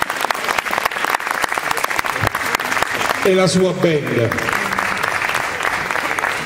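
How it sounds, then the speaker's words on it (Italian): A young Neapolitan singer-songwriter and his band draw lively audience applause at a Naples event, sustained clapping with a voice speaking over it midway. "Un grande applauso."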